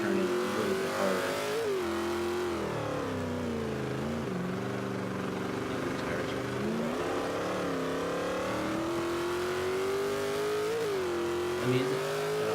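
A Jeep SRT8 engine in the racing game Forza 5, droning loudly as it accelerates, with the pitch climbing and dipping through gear changes over a sustained run.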